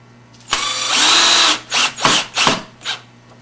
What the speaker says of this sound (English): a couple wood screws to mount the circuit breakers to the shelf wood frame.